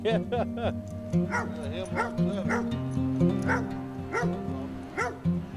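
A hunting dog on an upland grouse and woodcock hunt in Minnesota barks and yips repeatedly at close range, with some whimpering, while people talk and laugh over it.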